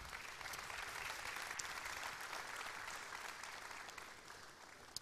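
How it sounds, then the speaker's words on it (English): An afternoon forum audience applauds to welcome a speaker onto the stage, with dense, steady clapping from many hands that fills the room without letup. "All right, keep clapping, keep clapping."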